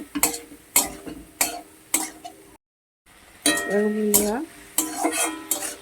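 Soaked turmeric and chilli paste sautés in a pan for a katla fish curry, with rhythmic spatula strokes over a sizzle, a brief dropout, then a sliding squealing tone amid continued stirring.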